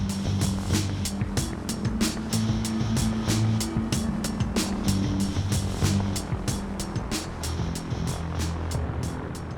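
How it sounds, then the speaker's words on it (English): A 15-ton truck in Seattle driven by an aircraft propeller powered by a hydrogen fuel cell, during a ground test: a loud, steady, rapid rhythmic thrum of propeller blades over a continuous low whir. "This 15-ton truck in Seattle is driven by an aircraft propeller powered by a fuel cell."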